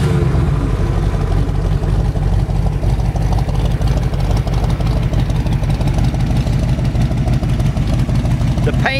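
A 1965 Cobra 427 tribute with an FE dual-quad big block and automatic transmission idles close by, a loud, deep, lumpy rumble with a steady pulsing beat throughout.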